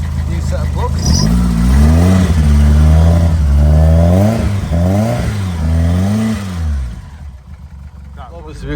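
A Hillman Imp rally car engine, cold but on new plugs, cranks, fires and runs with loud, close revving that rises and falls in several blips before settling, while a person talks over it.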